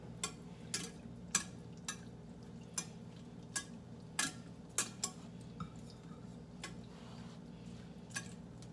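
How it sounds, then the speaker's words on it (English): A spoon stirs a pot of corn and shrimp soup, making a series of light, irregular clinks and taps against the pot over a low background hum. "So I'm going to go ahead and stir that up in here."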